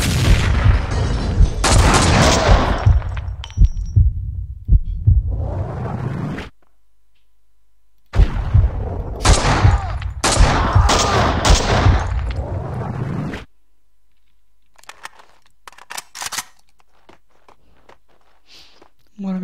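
Gunfire and combat noise in the action game Max Payne 2, dense loud bursts of shots and impacts in two long stretches separated by silence, then sparser, fainter shots near the end, with someone talking at times.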